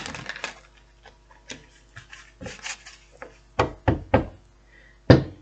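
Tarot cards being shuffled up close, a series of irregular sharp taps and soft riffling slaps, some louder clacks bunched near the end, in a quiet room.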